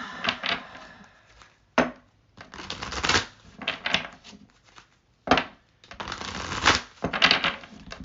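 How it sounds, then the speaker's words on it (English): Tarot cards being shuffled by hand, giving bursts of riffling and slapping in several separate runs with short pauses between them, close and fairly loud, with no talk over them. "Let's do some shuffling."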